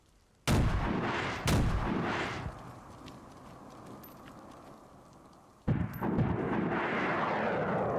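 Rocket launcher fire in the survival game DayZ: two loud, booming blasts in quick succession near the start, each trailing off into a rumbling decay, then a third heavy blast later over a steady low background.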